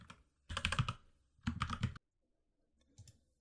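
Quick bursts of key presses on a computer keyboard while a root password is entered during a Linux lab setup, two dense clusters of clicking and a few faint taps at the end, close and alone.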